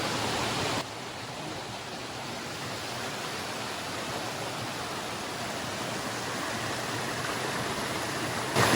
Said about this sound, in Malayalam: ഇവിടെ നല്ല വെള്ളച്ചാട്ടമാണ്